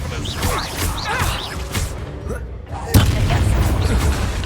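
A Bombarda blasting spell detonates in Hogwarts Legacy during a fight with poachers: a sudden loud boom bursts out near the end, after whooshing spell-casting effects and combat noise.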